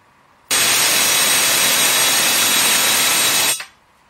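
A high-voltage electrical discharge with branching sparks inside a vacuum chamber makes a harsh, loud, continuous buzzing roar. It starts abruptly, holds steady for about three seconds, then cuts off with a brief crackle and no talking.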